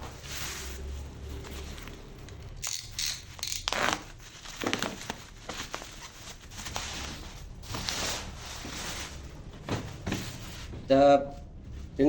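Unboxing a package holding a Belter 5-inch cordless grinder with a carrying case: crinkling plastic, tearing and clunks of the case being handled, with a person talking throughout.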